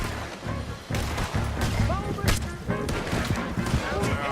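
Rapid gunfire from several weapons crackles in Red Dead Redemption 2, a dense volley of sharp close shots and booms with raised voices mixed in.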